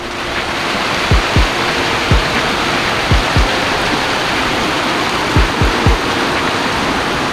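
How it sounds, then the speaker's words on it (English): A heavy tropical rainstorm in El Nido, Philippines, roars as loud, continuous, dense rain with water pouring down steps. Several deep thuds break through at intervals, and no one speaks. "This is crazy rain right here."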